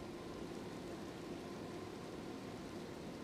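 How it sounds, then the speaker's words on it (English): Steady rain falls in the Shadow Realm of the video game Elden Ring Shadow of the Erdtree, a continuous soft broadband hiss that stays even and fairly quiet throughout with no voices. "It just started raining as soon as I started recording, so cool."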